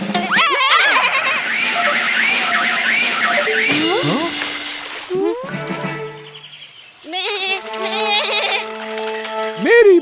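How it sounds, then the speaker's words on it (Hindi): A cartoon goat bleats in wavering, high-pitched cries over busy animated soundtrack noise, with several loud bleats and cries recurring across the clip, some alone and some overlapped by other cartoon sounds. "मेरी बकरी।"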